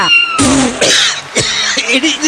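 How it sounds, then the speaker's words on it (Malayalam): A cat meows loudly several times in quick succession, close by, with drawn-out, wavering cries. "മോന്റെ പാലൊരു തെണ്ടി പൂച്ച കട്ടു കുടിക്കുന്ന കണ്ടാ"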